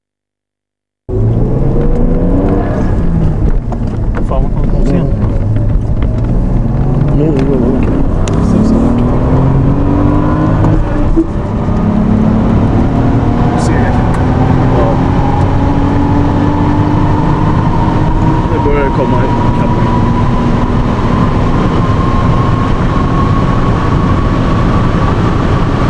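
A tuned Alpina B7 Turbo E28 accelerates hard from inside the car, a loud continuous engine drone whose pitch climbs steadily as the turbo comes on boost, with voices talking over it now and then.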